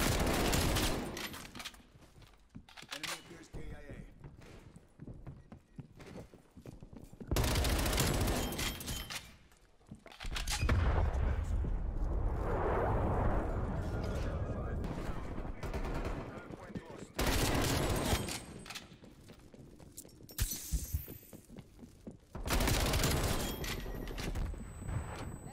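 Rapid bursts of MP5 submachine gunfire in a first-person shooter game, loud and repeated, with bursts separated by short gaps and some other battlefield noise, under occasional voices.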